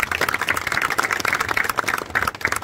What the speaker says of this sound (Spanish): démosle un fuerte aplauso también al personal de Fluvial